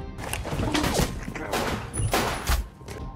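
Gunfire in a cafe shootout from an action film, with dense repeated bursts and heavy thuds over a busy mix of music and effects, loud and close.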